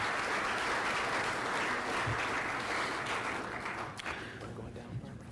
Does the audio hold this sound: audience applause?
yes